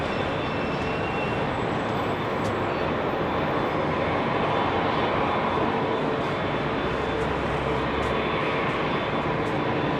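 A jet airliner departing London Heathrow's runway 27R roars with a broad, steady engine rumble that stays loud and close throughout, with no voices.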